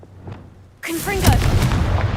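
A Confringo fire-blast spell bursts with a sudden loud boom in Hogwarts Legacy, a sharp blast followed by a crackling, fiery rumble that holds for a moment after the quiet lead-in.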